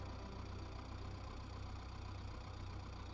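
A tractor engine idles in Farming Simulator 22 after mowing hay, a faint steady low rumble with a regular knocking pulse, no talk over it.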